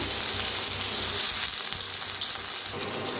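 Onion and moth bean dal fry in a pan for a dill leaf dish, a moderate continuous sizzle with a slight swell partway through, no talking.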